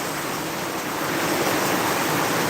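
Very heavy rain pouring down in a steady, dense roar during a flood in a residential subdivision, loud and continuous with no break or talk.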